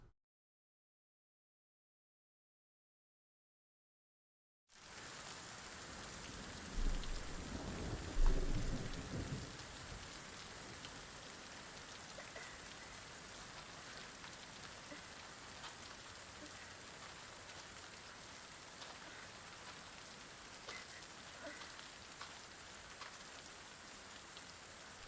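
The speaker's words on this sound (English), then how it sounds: "It rains." Rain and thunder in the video game Fatal Frame III: after a few seconds of silence, steady heavy rainfall comes in with a low thunder rumble near the start and then a continuous hiss of rain to the end.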